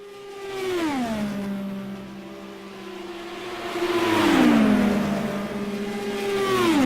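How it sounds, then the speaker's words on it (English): Race car engines in the Simraceway racing game at Auto Club Speedway whine and roar, pitch sliding down in smooth Doppler-like sweeps as cars pass, swelling louder midway with overlapping engine tones. "you can just hear the engines roar into life"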